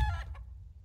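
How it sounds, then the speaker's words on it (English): A chicken in the video game Counter-Strike gives a short, close cluck, a quick squawk followed by a softer second note, over a low background hum. "that's a black chicken"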